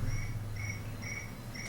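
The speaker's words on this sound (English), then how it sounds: "There's crickets in here." Crickets chirp indoors in a meeting room, steady repeated bursts of shrill chirping at an even rhythm over a low constant hum, with no talk.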